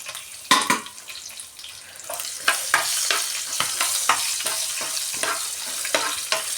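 Peanuts, curry leaves and green chilies fry in hot oil with cumin, mustard seeds and asafoetida for upma, a close, steady sizzle broken by repeated stirring scrapes and spatters.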